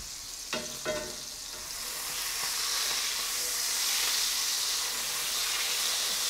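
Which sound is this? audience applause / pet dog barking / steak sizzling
steak sizzling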